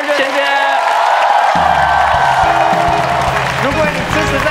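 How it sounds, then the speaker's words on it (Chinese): Studio audience applause at a Taiwanese late-night talk show, a broad wash of clapping that runs steadily under a voice speaking over it. "好了，各位观众，我们再次掌声，"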